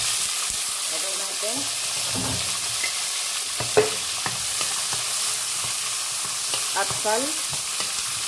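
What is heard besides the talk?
onion frying and sizzling in a pan, being stirred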